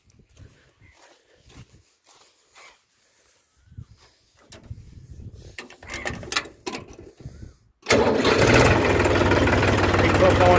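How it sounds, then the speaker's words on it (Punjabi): A tractor used with a laser land leveler is started: quiet shuffling and brief voices come first, then the engine catches abruptly near the end and keeps running loud and close at a steady idle. "ਕਰਦੇ ਹਾਂ ਟਰੈਕਟਰ ਨੂੰ ਸਟਾਰਟ।"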